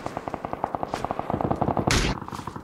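Rapid bursts of gunfire ring out in PUBG, a fast string of sharp, close automatic shots ending in a louder, heavier blast near the end.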